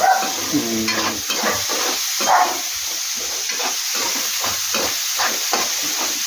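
Onions and green chilies fry in a pan for a tamarind-leaf curry, a moderately loud bubbling sizzle with repeated stirring scrapes throughout.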